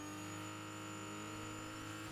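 Car engine in the Fortnite video game, a steady loud drone with stacked engine tones throughout, rising slightly at the end, with no talking.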